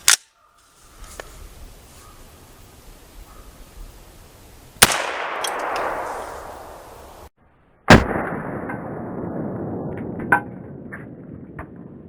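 A 300 Blackout AR pistol with a 7.5-inch barrel and a 16-inch rifle fire at an outdoor range, giving four sharp, loud shots spaced several seconds apart, each followed by a long, rolling echo.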